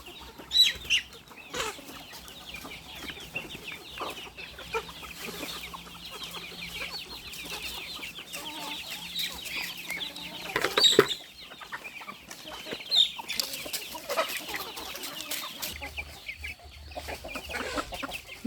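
Chickens cluck at a farm where young Muscovy ducks are raised, a steady scatter of soft calls over faint background noise with a couple of louder squawks.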